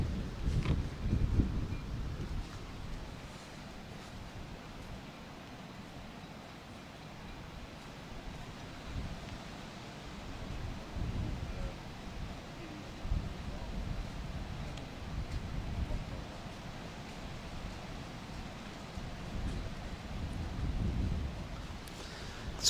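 Gusty wind blowing steadily across an outdoor lawn bowls green during a club pairs final, a constant low rumbling roar of buffeting against the microphone with stronger gusts near the start and end.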